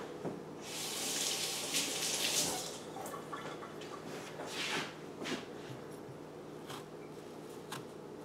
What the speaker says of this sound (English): Now I'm going to wash it off again.